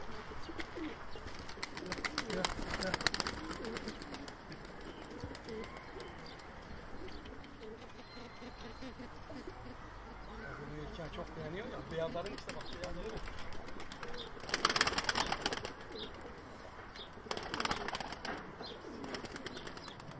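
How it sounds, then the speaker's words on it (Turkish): Sivas tumbler pigeons cooing in a garden coop, soft coos heard among rustling and bursts of wing flapping, with people talking intermittently nearby. "Bahçede de kuşlar var. Onlara bakalım."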